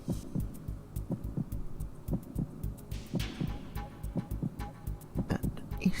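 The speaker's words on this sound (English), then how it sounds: "I like how the controller's vibrating with your heart beating." A steady, muffled double-thump heartbeat from Metal Gear Solid 2 gameplay pulses at a regular moderate rhythm, close and soft, with faint game ambience and occasional sharp clicks.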